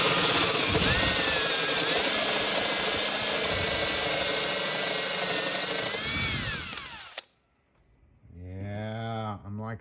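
A power drill whines loudly and steadily as a Drill Hog step bit enlarges a latch hole, then stops abruptly; a voice speaks briefly afterward.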